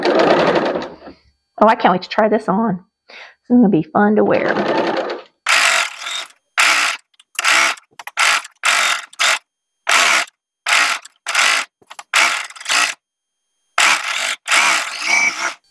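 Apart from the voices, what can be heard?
sewing machine sewing in a knit top sleeve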